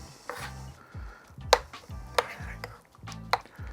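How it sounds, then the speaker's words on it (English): Knife chopping through chicken and pork souvlaki on a cutting board: a few sharp, distinct knocks spread over a few seconds, close by and clear, with no voices. "I'll just put our knife down through it to cut it all down in size"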